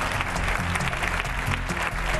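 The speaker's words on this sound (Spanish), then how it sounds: "Un fuerte aplauso para él." Studio audience on a Spanish television program breaking into loud, dense applause, close and continuous for a couple of seconds with no talk over it.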